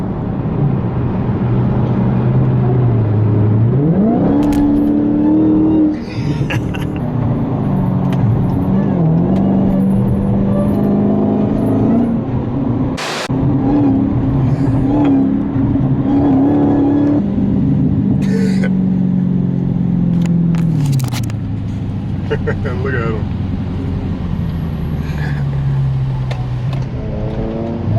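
Dodge Hellcat fitted with a Legmaker intake revs loudly and repeatedly, the engine rising and falling in long sweeps at close range, with brief casual talk over it.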